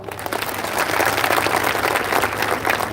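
An audience at a public motivational talk applauds, a dense, loud burst of many hands clapping that swells quickly and holds steady for a few seconds, with no voices over it.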